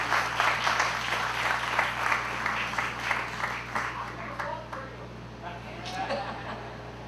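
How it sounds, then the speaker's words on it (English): Applause for a congresswoman at an outdoor construction ceremony for a foundation pour, a full crowd clapping that gradually thins, with a low steady hum underneath and voices faintly present. "another round of applause for our Congresswoman"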